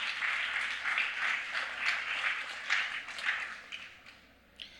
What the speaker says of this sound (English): Can we get a round of applause for our speakers?